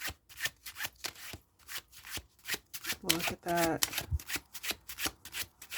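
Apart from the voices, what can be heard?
shuffling tarot cards by hand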